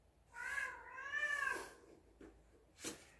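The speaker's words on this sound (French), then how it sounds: "Il y a le chat de la voisine qui nous embête un petit peu" A neighbour's cat meows twice in drawn-out, wavering cries, then gives a short sharper call after a pause, faint and somewhat distant in a quiet apartment being repainted.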